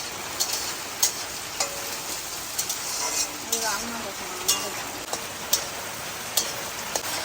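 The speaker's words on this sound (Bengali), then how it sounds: "কাঁচা লঙ্কা কেটে রেখেছি এটা দিয়ে একটু ভেজে নেবো" Chopped green chilies frying in a pan, a continuous crackling sizzle punctuated by sharp spatula scrapes and taps every second or so, close up and without speech.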